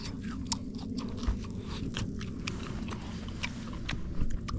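Crispy, smoky steak with rendered fat is bitten and chewed close to the ear outdoors, giving sharp crunches at irregular intervals over a constant low background rumble.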